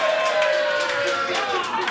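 A live audience in Tokyo cheers and claps for Japan during a rugby talk show, a dense, loud roar of voices and hands sustained for the whole moment.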